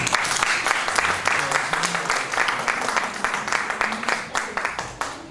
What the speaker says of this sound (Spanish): Démosle un aplauso, por favor